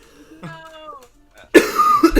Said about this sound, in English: Fuck this fucking cough.